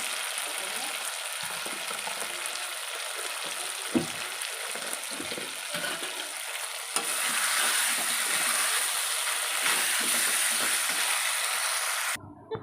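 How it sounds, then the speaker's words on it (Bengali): Ghee sizzles in a pan during frying: a dense, steady crackle with occasional stirring knocks grows louder partway through, then cuts off abruptly near the end. "একটু ঘি দিয়ে দিচ্ছি।"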